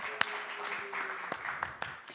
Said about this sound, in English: How about a round of applause for anybody that had anything to do with that?